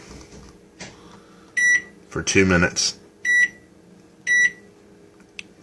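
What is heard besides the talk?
microwave oven timer being set, beeping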